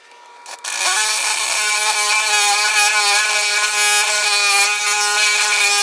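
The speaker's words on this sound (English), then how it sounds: "If you have to drill through your sink, definitely use a Forstner bit like this." After a brief knock, a loud power drill with a Forstner bit starts up and holds a steady high-pitched whine as it bores through a kitchen sink.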